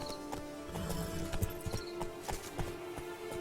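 Roach the horse gallops in The Witcher 3: Blood and Wine, a fast rhythmic clip-clop of hooves on hard ground close by, repeating steadily throughout with a faint snort-like whinny mixed in.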